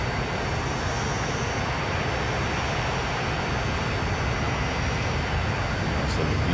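An airliner flies in the video game Transport Fever, a dense, steady engine roar with no pauses, loud and continuous from start to finish.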